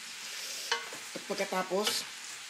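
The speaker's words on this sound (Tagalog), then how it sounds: "haluin ang haluin. Para hindi kumapit." Sinanglaw being stirred in a pan so it won't stick: a short, close run of scraping stirs over a soft sizzle, with several quick strokes bunched together near the middle.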